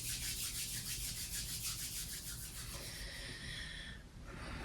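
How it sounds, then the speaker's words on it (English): Palms rub briskly together to warm cold hands during a yin yoga session, a close, soft, continuous swishing friction that eases off toward the end, heard alone without talking. "Start to gather your hands at heart, maybe inviting a little rub if you're feeling that they're cold."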